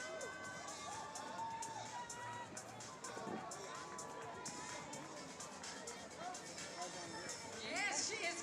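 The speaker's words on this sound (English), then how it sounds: "she is getting the crowd going" Spectators cheer and chatter along the course of the Cape Town Marathon, a continuous crowd roar swelling near the end as runners pass, with a voice talking over it.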